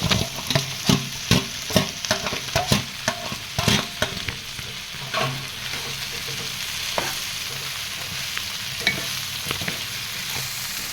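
Ginger, garlic, coconut and coriander fry in oil in a pan for a chutney, giving a close, even sizzle with frequent scraping and knocking strokes from a spatula, busier at first and then settling, with no voices.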